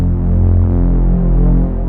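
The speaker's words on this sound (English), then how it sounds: "So I'm going to go to my effects and turn up the chorus." A deep, throbbing Reese-style synth bass from a Digitone II drones steadily with a wide, warbling chorus shimmer, loud and continuous with no voices.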